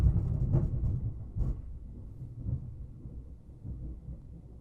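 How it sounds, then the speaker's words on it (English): Loud thunder rolls low and heavy, breaking into a couple of sharper crackling bursts early on before settling into a long, fading rumble, with no voices over it. "The thunder was so loud, I literally could feel it on the ground."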